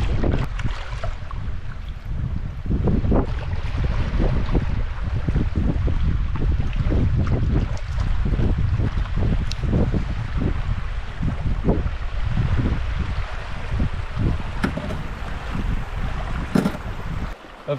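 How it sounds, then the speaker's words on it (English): Strong wind buffets the microphone while canoeing on a pond during stormy solo camping weather, a continuous loud low rumble with gusty bursts and occasional faint knocks and splashes, and no talking. "because it's very windy today"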